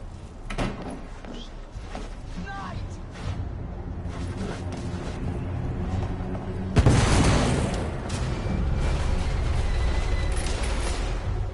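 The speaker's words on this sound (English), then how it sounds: "The damage from the explosion is getting worse." A heavy explosion in the video game The Order: 1886 bursts in loudly midway, followed by a sustained rumbling roar of debris and damage after a stretch of scattered clattering impacts.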